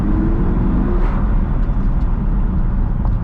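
An Audi R8 V10 drives along, heard from the cabin as a steady low engine drone mixed with road and tyre roar, loud and even without clear revving.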